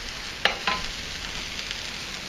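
Vegetables for a Philly cheesesteak sizzling on a hot griddle, a steady close hiss with a couple of sharp scraping knocks from a spatula moving and flattening them.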